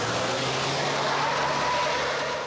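A truck stuck on a muddy dirt road strains with a steady engine roar while its wheels spin, giving a rising whine throughout.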